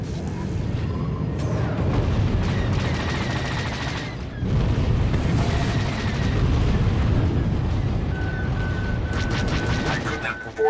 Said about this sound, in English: Forgot how much I love cluster missiles.